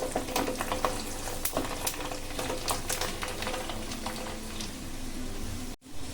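Peeled garlic frying in hot oil with mustard seeds and cumin, sizzling steadily with crackling pops and spatters close by, with a brief clatter near the end.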